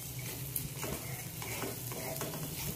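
Okra curry being stirred in a pan after coriander goes in, a steady low sizzle with soft scraping strokes of the spoon recurring through a short stretch, fairly quiet and close, no talking.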